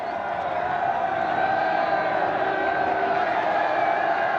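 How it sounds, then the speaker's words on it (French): A large crowd murmurs and calls out on a jetty in Nouméa in archival historical footage, a dense steady roar of many voices throughout. "La foule l'attend en sauveur sur la jetée"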